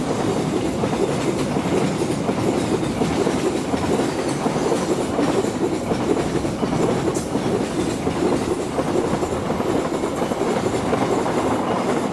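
A freight train passes straight through a station at Lemah Abang on an Indonesian railway, a steady loud roar of rolling wagons with rhythmic clickety-clack of wheels over rail joints, close by and continuous throughout, with no voices.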